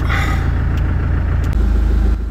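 A vehicle engine starts by push button and settles into a steady, loud idle with a deep rumble, heard up close with no talking, before the start of a track through the Congo jungle.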